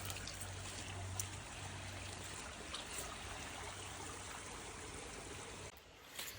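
A river flows steadily by a campsite in the woods, a faint, constant broadband rush of water with no breaks, easing slightly near the end.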